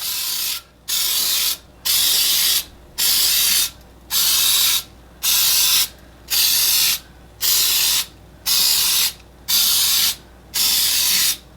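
Cooking spray hissing from a can into a muffin pan for mini lemon drop cakes, about eleven short, loud bursts in a steady rhythm with brief gaps between them.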